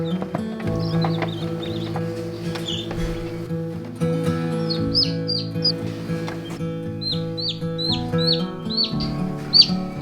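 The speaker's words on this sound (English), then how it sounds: "there is a ton of chicks in there now" Newly hatched chicks in a brooder chirp in repeated high, quick peeps, several overlapping at close range, over a steady low hum and some rustling.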